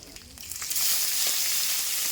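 Shredded cabbage drops into hot oil tempered with bay leaf, panch phoron and chopped ginger, erupting into a loud, bright, sustained sizzle after a few light clatters, with no voices.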